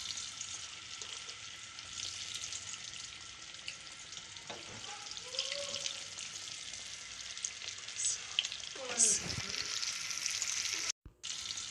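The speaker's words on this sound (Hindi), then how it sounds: "और हल्की आग पे हम इनको फ्राई कर लेंगे।" Potato cutlets coated in crumbs fry in oil over low heat, giving a steady, soft sizzle with light crackles and a few clinks of a utensil, close by and without talk.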